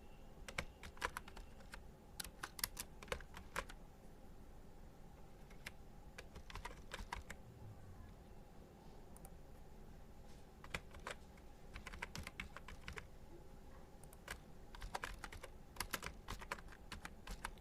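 Steady typing on a computer keyboard while filling in a spreadsheet, with quiet, close key clicks in uneven runs and short pauses over a low room hum.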